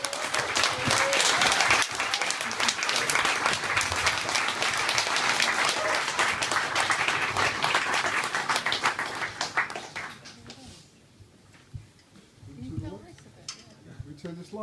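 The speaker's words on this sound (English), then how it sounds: "Coming up, a round of applause for..." An audience at a Rough Trade East record shop event claps loudly and steadily for about ten seconds, then the applause dies away, leaving quiet room sound and a few faint voices.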